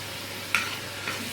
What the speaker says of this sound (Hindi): अच्छे से मिक्स कर दिया ताकि इसकी खुशबू पूरे मटेरियल में रच बस जाए।